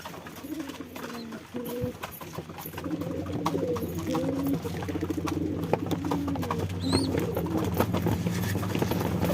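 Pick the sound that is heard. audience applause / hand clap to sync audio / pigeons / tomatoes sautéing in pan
pigeons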